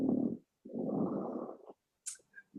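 A person snoring while an online lecture plays: two long, loud rasping snores with a pause between, then a few faint brief snorts, heard alone with no talk.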